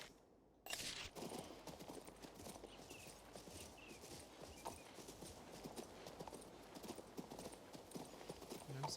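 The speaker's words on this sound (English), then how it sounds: "let's jump on a horse." Horse hooves clip-clop in a steady trotting rhythm in King's Bounty 2, close and continuous after a brief quiet start, with faint game sounds around them.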